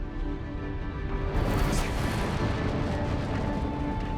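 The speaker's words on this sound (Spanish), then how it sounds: "Una tremenda explosión en la superficie solar." A deep, rumbling explosion on the Sun's surface swells and roars continuously, with a sudden brighter burst partway through and no talking.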